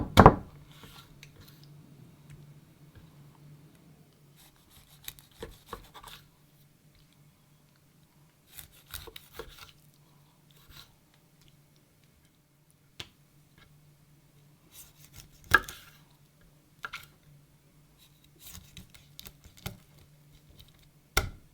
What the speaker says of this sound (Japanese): それをこのまま頭を落として、あとは5、6センチの長さに切っていきます。